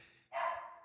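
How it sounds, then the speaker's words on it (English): A dog gives one short, muffled bark, heard faintly from a distance inside a home. "I apologize if you guys can hear the dog barking."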